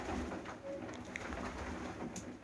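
Budapest pigeons coo softly in a loft, several low throaty calls overlapping near at hand, with faint rustling and brief higher chirps.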